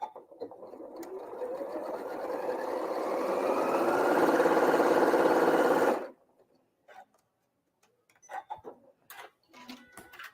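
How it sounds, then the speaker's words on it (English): A sewing machine stitches a quilt block, its motor whirring loud and close and rising in speed for about six seconds, then stopping abruptly, followed by faint handling clicks and rustles. "I'm going to sew that."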